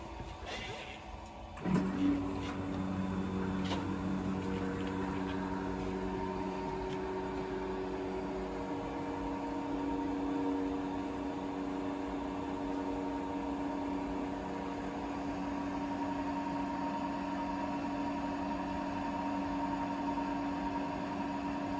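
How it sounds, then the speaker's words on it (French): A laboratory vacuum pump on a jacketed multipurpose reaction unit starts with a short clunk, then runs with a steady, even mechanical hum and hiss that holds unchanged for about twenty seconds. "on va allumer la pompe à vide"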